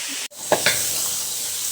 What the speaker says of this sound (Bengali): এখন আমি আলুগুলোও ভেজে নেব।